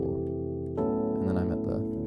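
Nord electric piano playing sustained jazz chord voicings, one held chord changing to a brighter, fuller chord partway through, clean tones with gentle movement in the upper notes.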